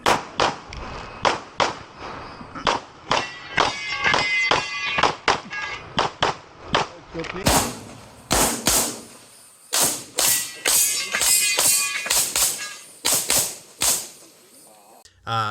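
Pistol shots ping off steel popper targets in fast, evenly spaced strings of sharp cracks with metallic ring, loud and close. A short pause falls midway, with some talk around the shooting.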